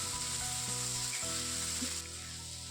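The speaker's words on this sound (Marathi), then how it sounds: "दोन मोठ्या साईजचे पिकलेले टोमॅटोचे काप घातलेले आहेत तेही छान आपल्याला भाजून घ्यायचे आहेत" Two large ripe tomato slices roasting with onion in a pan for a dhaba-style matar paneer, a soft steady sizzle under a constant low hum and faint tones, quiet and without talk.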